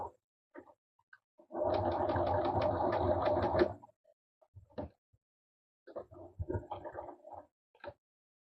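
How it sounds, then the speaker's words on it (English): A sewing machine stitches a shirt side seam in one close, steady burst of about two seconds, followed by scattered handling and fabric sounds. "I'm going to sew all the way through to the bottom."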